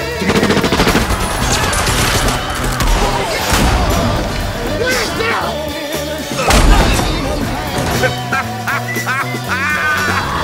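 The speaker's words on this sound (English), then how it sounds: "Oh, the shooting." Gunshots ring out during a Quentin Tarantino film scene, several sharp bursts standing out over a dense, loud mix of dialogue voices and soundtrack.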